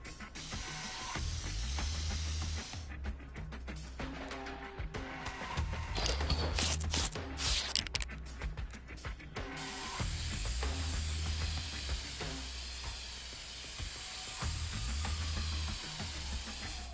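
Aerosol spray can in inFAMOUS: Second Son, hissing in repeated bursts with rattling, mechanical clicks in between, fairly close over a low steady game hum.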